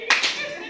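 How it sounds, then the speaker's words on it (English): A short burst of audience clapping at a staff training session, a few quick claps close by that fade out within a second, with a voice faintly mixed in. "Clap for him!"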